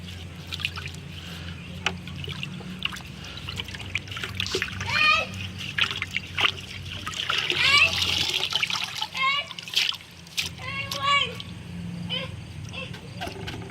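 Aquarium filter media being rinsed out in a container of water, giving repeated splashing and trickling that rises and falls over several seconds, with a voice faintly in the background.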